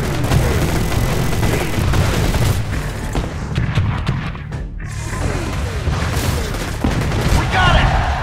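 Gunfire and explosions in the war game Empires & Allies: a dense, continuous barrage of shots and booms fills the whole stretch, loud and close, with voices shouting orders mixed into the din.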